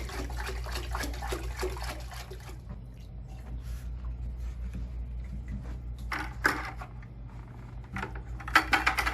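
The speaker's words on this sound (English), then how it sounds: "we're just gonna start pouring it back into the tank" Saltwater is poured from a container back into a home reef aquarium tank, giving a steady splashing, gurgling wash with occasional louder sloshes, over a low constant hum from the room.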